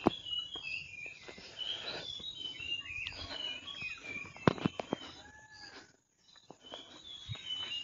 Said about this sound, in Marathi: पक्ष्यांचा किलबिलाट ऐकायला येते सगळीकडे